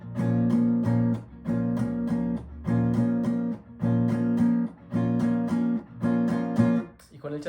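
Guitar strumming a san juanito rhythm with muted apagado strokes: regular pitched chord bursts in repeating groups, each cut short by damped accents, close and clear for about seven seconds.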